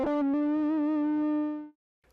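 Electric guitar played through a Keeley Tone Workstation pedal with the 1962 overdrive stacked on the Mod Plus modulation: a single warm, slightly distorted note with wavering chorus-like shimmer, sustaining for over a second before cutting off.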